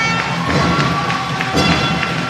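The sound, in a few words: crowd applauding at lacrosse match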